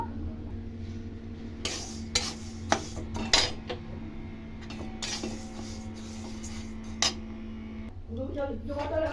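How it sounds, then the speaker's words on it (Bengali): Mung dal dry-roasting in a pan, heard as scattered metallic clinks and scrapes of a spoon against the pan over a low steady hum, with a few louder knocks and a brief rustle near the end. "এবার ডালটাকে ভেজে নেব।"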